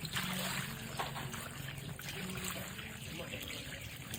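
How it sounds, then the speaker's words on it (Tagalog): Water is poured into a cooking pot while making beef bone soup, a faint trickling splash in a kitchen with some low background noise. "maglalagay tayo ng tubig."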